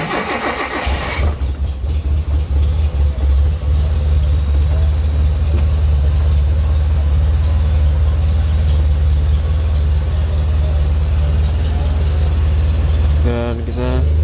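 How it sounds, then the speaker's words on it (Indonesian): A used car's engine cranks and catches, then settles into a steady, loud, close idle with a low rumbling hum that runs unchanged for over ten seconds, with a brief voice near the end. "kita hidupin mesin biasanya"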